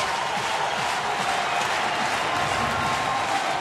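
Baseball crowd at a St. Louis ballpark roaring with cheers and steady applause after a walk-off home run, a dense, continuous wall of sound with no pauses, loud and sustained throughout.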